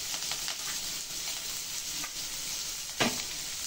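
Chopped onion and curry leaves sizzle in hot oil with bay leaf, cinnamon, clove and cardamom for Andhra-style vadakari, a soft steady hiss with faint stirring taps and one louder scrape near the end, close and fairly quiet.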